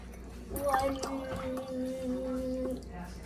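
Water poured from a water bottle into a bowl while baking a cake, a short gurgling, trickling pour with a steady rising tone lasting a couple of seconds, close and moderately quiet.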